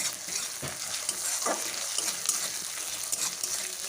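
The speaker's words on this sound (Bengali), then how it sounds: "অল্প করে জল দিয়ে এবার কষিয়ে নিচ্ছি নাহলে লেগে যাবে" Ginger and cumin paste sautés in a pan with a splash of water for a rupchand fish and potato curry, giving a steady close sizzle broken by scraping stirs, with no talking.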